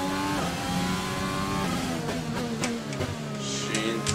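Formula 1 car in the F1 2021 video game at the Baku street circuit in Azerbaijan, engine revving hard under full throttle on a straight with rising harmonic whine and quick gear shifts, loud and continuous.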